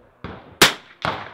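Rifle shots ring against steel targets at an NRL22 rimfire match, heard as three sharp, loud cracks spaced a few tenths of a second apart, each with a short decaying ring.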